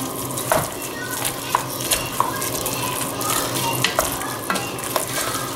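A roux for chicken and sausage gumbo being stirred in a pot, a constant frying sizzle with regular scraping taps of the utensil against the pan, and faint voices in the background.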